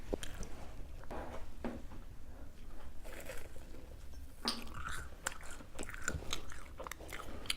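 Cheese balls are eaten close up, with repeated soft bites and chewing crunches over a continuous low background murmur.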